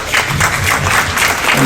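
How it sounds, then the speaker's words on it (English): Audience applause for the entertainers at a Crown & Anchor show on the Odyssey of the Seas cruise ship, a dense, steady burst of many hands clapping with faint voices mixed in. "I think they all deserve a round of applause"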